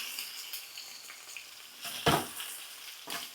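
Chicken sizzles and fries in a pan for tikka masala, a steady close crackle with a couple of louder scraping stirs, no voices.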